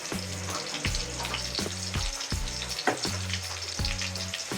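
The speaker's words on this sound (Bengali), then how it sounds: "একটু নাড়াচাড়া করে দিলাম।" Chopped onion, bay leaf and green chili fry in hot oil in a pan while being stirred. A constant loud sizzle is broken by regular scraping strokes about once a second, with no talking.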